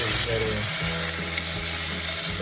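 Habanero peppers frying and being stirred in a pan as they dry out, giving a loud continuous sizzle with scraping from the stirring throughout.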